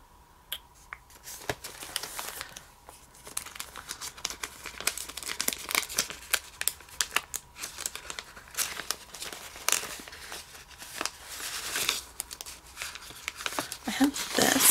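Sheets of laundry stickers rustle, crinkle and peel in a steady run of soft crackling and tearing sounds, heard up close and fairly quiet, with no one talking.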